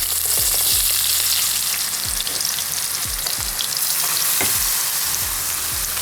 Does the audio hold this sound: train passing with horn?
no